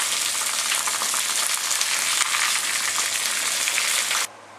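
Chicken pieces frying in oil, a loud steady sizzle and crackle that holds evenly for about four seconds and then drops away abruptly.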